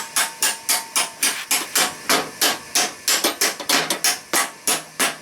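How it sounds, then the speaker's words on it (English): Hammer tapping a spring rod into a 42-inch Husqvarna riding mower deck, a steady series of about twenty sharp metallic taps in quick, even rhythm, close and loud with no talk. "Now we just got to tap it in."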